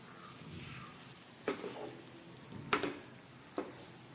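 Stuffed baby brinjals fry with masala in a pan, giving a steady low sizzle with a few sharper crackles and stirring scrapes breaking through now and then.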